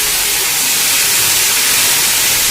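Whole garam masala spices dropped into hot oil give a loud, close, unbroken hiss that holds steady throughout with no pauses.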